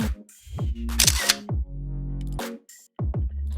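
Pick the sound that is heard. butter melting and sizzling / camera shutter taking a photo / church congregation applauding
camera shutter taking a photo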